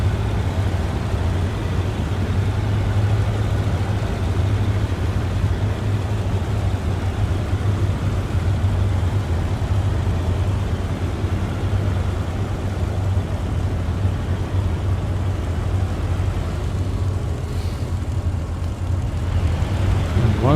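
Twin engines of a de Havilland Mosquito taxiing in the Il-2 flight simulator, a loud steady low droning hum that continues unbroken with no talking.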